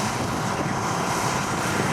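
A T-33 jet in U.S. Air Force Thunderbird colours roars past in a fast knife-edge pass at an air show open house, a loud, steady, broadband engine rush filling the air.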